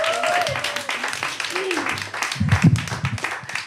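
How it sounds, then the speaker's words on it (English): An audience at a comedy show claps and cheers for the next comedian, a burst of mixed applause that swells near the end, with voices and a tonal whistle or call over it. "give her a round of applause."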